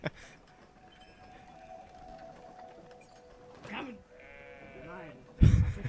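Sheep in the video game Brothers: A Tale of Two Sons bleat a couple of times, wavering and nasal, under a player's talk and laughter, followed by a sudden loud burst.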